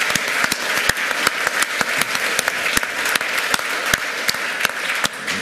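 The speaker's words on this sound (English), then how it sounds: "Can I just get a round of applause for those guys, the people who are trying to provide free Wi-Fi?" Audience applause at a hacker conference talk, a dense, steady wash of many hands clapping, loud and sustained for several seconds with no speech over it.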